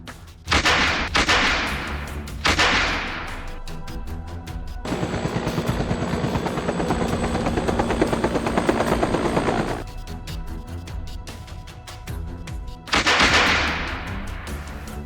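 Loud bursts of impulsive noise alternate with a sustained whirring, rotor-like roar in the middle; no talk, busy and aggressive throughout.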